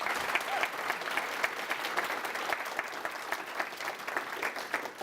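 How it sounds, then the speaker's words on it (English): Audience applause at a university event, steady, dense clapping from a good-sized crowd heard at a moderate distance, even and sustained throughout. "let's give them another round of applause."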